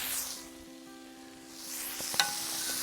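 Scallops and chorizo sizzling in a pan as they are moved around, a quiet steady sizzle with a brief stirring scrape and clink partway through.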